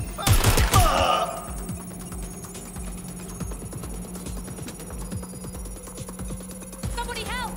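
A loud burst of gunfire opens in Watch Dogs Legion, followed by a dense, continuous crackle of rapid shots, with a high electronic ringing tone underneath.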